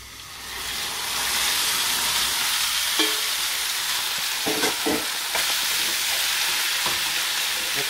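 Beef frying in a pan for shepherd's pie, a loud, steady sizzle with intermittent scraping and clattering as it is stirred, close and continuous, no talking.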